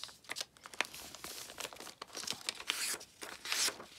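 Paper is handled and folded over while a junk journal template is made, with close, irregular crinkling and rustling bursts and brief crisp crackles.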